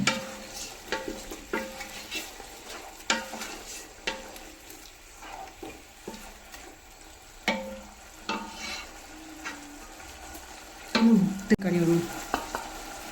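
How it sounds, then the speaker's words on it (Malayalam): A spoon scrapes and stirs through a bubbling pot in repeated strokes, with a soft simmering hiss underneath and a louder clatter near the end. "അതിക്ക് ഇനി ഒന്ന് നല്ലോണം ഒന്ന് ഇളക്കി കൊടുക്കട്ടെ നല്ല തിളച്ച് വന്നിട്ടുണ്ട്"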